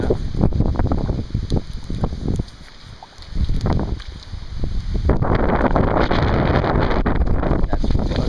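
Strong hurricane wind buffets the microphone outdoors, gusting in uneven surges and turning into a loud, steady roar for the last few seconds.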